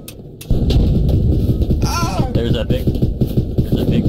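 Gunfire in a tank combat video game: heavy, booming shots and rumbling blasts run continuously at close range, under overlapping voices talking over the radio.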